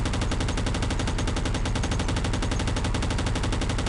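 Sustained machine gun fire in the Enemy Territory shooter game, a loud, continuous rapid burst of evenly spaced shots with no pause across the whole stretch.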